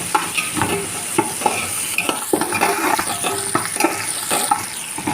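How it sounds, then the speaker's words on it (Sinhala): Curry leaves frying and being stirred in a pan for an Arabic fish machbus: a steady close sizzle with repeated clicking and scraping spatula strokes, no voices. "ඉතින් කරපිංච කොළ එකතු කරගන්නවා"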